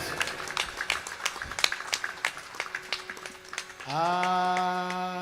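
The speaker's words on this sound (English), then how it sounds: "Another round of applause." A round of sparse clapping from guests at a Hindu Vivaah Sanskaar wedding ceremony, moderately close, which gives way to a sustained musical tone.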